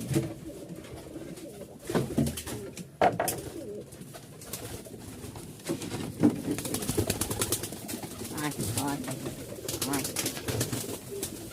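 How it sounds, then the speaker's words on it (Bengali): Pigeons are released and fly off at a home loft, with soft cooing and bursts of wing flapping close by, while someone talks intermittently over the birds. "যেমন কবুতরগুলো ছাড়ছি।"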